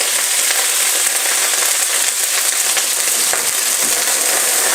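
Soy sauce hits a very hot stir-fry pan of beef, broccoli, red pepper and mushroom in avocado oil, producing a loud, steady, crackling sizzle with small pops that keeps going without pause, close up and with no talking.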